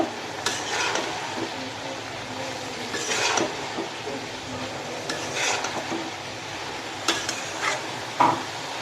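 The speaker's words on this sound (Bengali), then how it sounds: "সাথে সাথে হলুদের গুঁড়োটাও দিয়ে দিলাম তো একবার নাড়াচাড়া করে নেব ভালো করে মিশিয়ে নেব" Spices and turmeric powder are stirred in a sizzling pan: scraping strokes of the spoon come and go over a constant frying hiss, with one sharper knock near the end and no voices.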